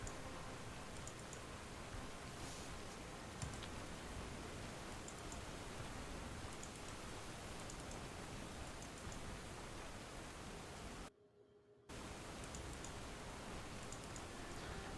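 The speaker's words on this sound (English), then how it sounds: "So I just realized this entire time I've been hearing the rain." Rain falls in the Stoneshard video game as a dense, steady hiss of fine patter, continuous at moderate volume and briefly cutting out once near the end.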